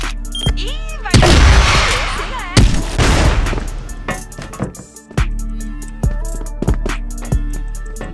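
Gunshots and explosions in an online shooter match, loud rapid bursts of gunfire with booming blasts and repeated single shots over game sound effects.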